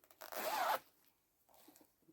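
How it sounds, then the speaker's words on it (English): A project bag's zipper is pulled open in one close, loud rasping run lasting about half a second, followed by quiet soft handling rustles. "Sorry for the zip."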